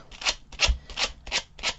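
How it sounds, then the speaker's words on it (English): Sandpaper rubbed over Mod Podge-coated craft pieces in five even back-and-forth strokes, each a close, dry scratchy rasp separated by short pauses. "take a piece of sandpaper, and sanding from front to back"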